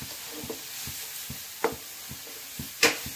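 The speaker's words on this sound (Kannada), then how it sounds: "ಈಗ ಕೊತ್ತಂಬರಿ ಹುಡಿ, ಜೀರಿಗೆ ಹುಡಿ, ಗರಂ ಮಸಾಲ ಹಾಕುವ. ಹಾಕಿ ಇದರಲ್ಲಿ ಸ್ವಲ್ಪ ಹುರಿಬೇಕು." Onions fry in a pan with ground coriander, cumin powder and garam masala, giving a soft steady sizzle broken by occasional stirring scrapes and clinks.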